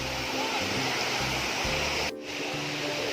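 Water pouring down a tier of Erawan waterfall makes a steady, loud rushing roar that fills the whole moment, with a brief dip in intensity just past the two-second mark.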